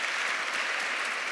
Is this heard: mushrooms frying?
no